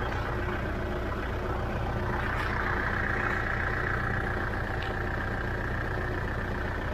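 A Kubota 4501 tractor engine idles steadily at low rpm, a constant near rumble with no talk.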